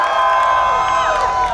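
A dating-show audience cheers for a contestant. A loud, dense crowd roar is filled with high shouts and whoops and holds steady for under two seconds.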